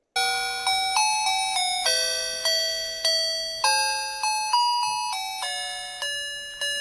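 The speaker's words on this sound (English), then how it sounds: "like a kitschy doorbell that gets the Christmas tune set to it" A kitschy doorbell chimes a Christmas tune, a run of bright, clear electronic notes that each ring and fade in a steady rhythm, close and alone.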